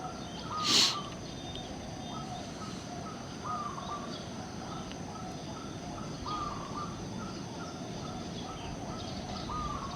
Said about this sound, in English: Enjoy the birds in the background in the meanwhile.